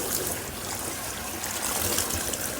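Cold water runs steadily over a PVC suit with hand-glued seams during rinsing, a continuous close splashing trickle with no pauses.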